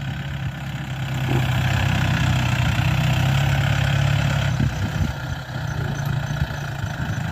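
A Yanmar YM357A tractor engine idling steadily nearby, a low droning rumble with constant vibration and no speech.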